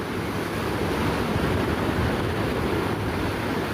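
Ocean waves break and wash continuously on Mission Beach in San Diego, a dense, steady roar of surf with some wind across the microphone, close and loud with no voices.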